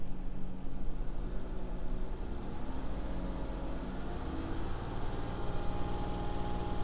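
Mazda 6 engine held at a raised idle around 2500 rpm, a steady droning rumble with a broad noisy hiss, constant and moderately loud throughout with no talk.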